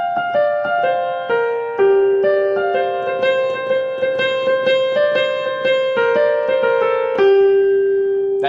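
Solo piano plays a quick, flowing section of a song, a steady run of bright struck notes over held chords, loud and close, ending on a sustained low note, with no talking.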